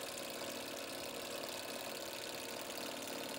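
A Stirling engine with a roughly two-pound rotor drives a window motor used as a generator, giving a steady, continuous mechanical whirring drone with a faint knocking texture, even and unbroken throughout.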